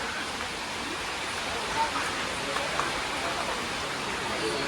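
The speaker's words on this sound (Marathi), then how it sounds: "पाऊस बघा किती आहे" Dense, even hiss of heavy rain falling continuously at Ekvira, a steady wash of noise with no clear breaks.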